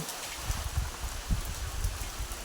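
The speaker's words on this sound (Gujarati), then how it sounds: "આ જોઈ લો વરસાદ કેવો છે" Windy rain falls steadily during a monsoon storm, a constant hiss with irregular low gusty thumps from wind buffeting nearby, and no talking.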